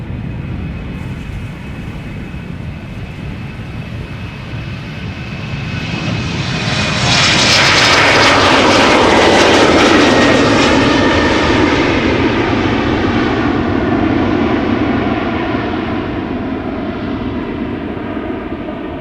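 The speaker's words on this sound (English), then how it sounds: "Britty hopper, Embraer 190, going to Teesside or Darlington." An Embraer 190 regional jet of Britty hopper takes off from the Polderbaan runway at Schiphol, its engine roar swelling to a loud, close peak with a high whine, then slowly fading as it climbs away.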